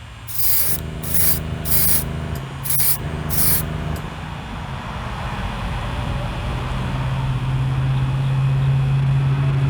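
Spray paint hisses in several short bursts, then a longer steady spray, as coats of green go onto a Hot Wheels drag bus model; a low hum runs underneath throughout.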